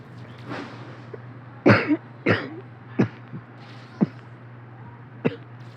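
A person coughs in a series of sharp, close bursts, a few clustered together and the rest spaced out singly, over a steady low hum.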